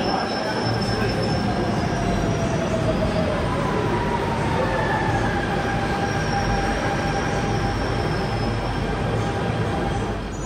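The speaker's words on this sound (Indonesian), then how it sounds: "Ini mau ada kereta yang masuk kembali nih teman-teman." A metro train pulls into the largest railway station in Asia, in China, its wheels squealing in long high-pitched tones over a continuous loud rumble of rolling rail cars.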